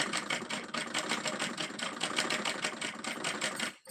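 A sewing machine runs at a steady fast rhythm, a continuous rapid clatter of the needle mechanism, close and moderately loud, stopping abruptly at the end, with no talk over it.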